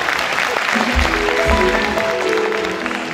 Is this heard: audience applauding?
yes